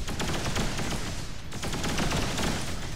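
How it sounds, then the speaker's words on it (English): Enemy gunfire in the space combat game X3 Albion Prelude: rapid, dense, continuous bursts of shots and impacts, loud and sustained with no pauses, and no talking. "Oh, and they're firing at me."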